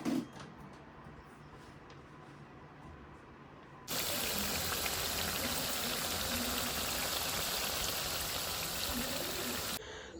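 Water pours steadily onto potted plants in a home gallery garden, a loud continuous splashing rush that starts suddenly partway through and stops near the end, with quieter faint sounds before it.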